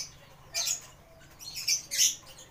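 Young hand-fed baby birds give short, high, squeaky chirps in a few scattered bursts, fairly close and loud over a quiet background, with no talking.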